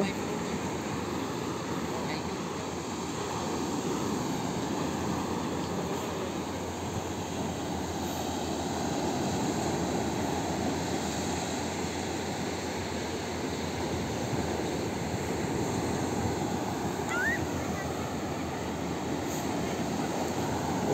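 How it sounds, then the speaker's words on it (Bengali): Big ocean waves on a beach in Cambodia: a steady, unbroken roar of surf that stays even and fairly distant throughout. "বিশাল এক একটা ঢেউ, বিশাল সাগরের গর্জন"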